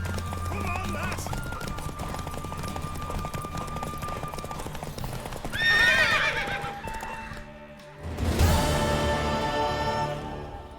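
Horse in The Witcher 3 game neighing loudly twice amid galloping clip-clop hooves, with game music and character voices running underneath.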